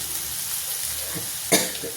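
Green chili and turmeric sizzle in hot oil in a pan as a tempering for a dry green banana dish. The frying is soft and steady, and a brief clatter of a spoon or lid comes near the end.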